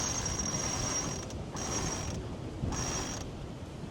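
Mechanical grinding and ratcheting as a sailboat's solent jib car slides along its track under load, with a faint high whine that cuts in and out between pushes.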